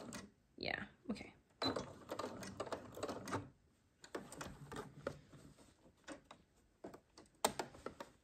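A sewing machine stitches shirred fabric close by, with a sustained rattling run of stitches early on, then shorter stop-start bursts and clicks as the seam is backstitched.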